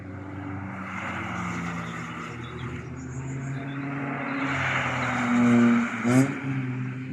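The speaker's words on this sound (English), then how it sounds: "those downshifts sound good on those Vx220s" Vauxhall VX220 cars on a race track, engines droning past at a distance with rising and falling pitch and a louder swell near the end as downshifts crackle through.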